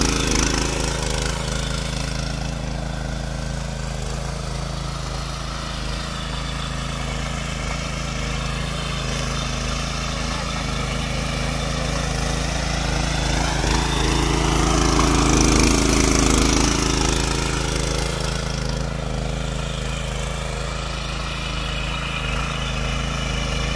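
A tractor engine runs steadily in a flooded rice field during Konkan paddy sowing, a constant low mechanical drone that swells slightly around the middle and never drops out, with no voices over it.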